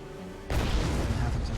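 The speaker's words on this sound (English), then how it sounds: "A violent explosion shatters the tranquility of the boarding house and reduces the elevator to a smoking ruin" A violent explosion in Dungeons & Dragons Online wrecks an elevator in a boarding house in Sharn: quiet ambience, then a sudden loud boom that rolls into a sustained crashing rumble and debris noise.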